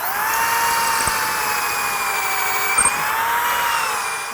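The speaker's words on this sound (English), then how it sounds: "You're basically drilling pocket holes" A power drill whines steadily while boring pocket holes into the wooden rails of a lower cabinet face frame, a continuous high-pitched motor drone with a couple of brief bumps as the bit bites.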